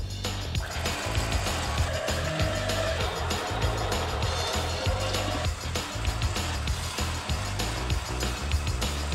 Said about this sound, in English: the winch got us out of the situation, no problem